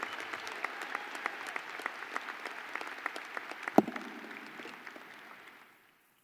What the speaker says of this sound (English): Please join me once again in recognizing our regents and the important role that they play in our university with a big round of applause